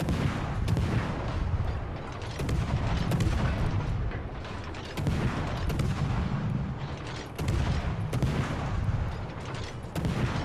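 Naval gunfire from a small destroyer in the World of Warships-style game, tech line Oland, rapid guns peppering a target; dense, continuous booming volleys with regular surges every couple of seconds, loud and without talk.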